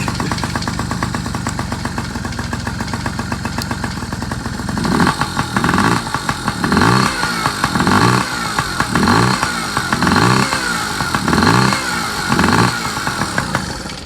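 A 1997 Yamaha PW50 dirt bike fitted with a big bore kit, its carb idle screw out of adjustment, kicks over and starts: a few seconds of low sputter, then a loud, close two-stroke idle that surges in regular repeated pulses.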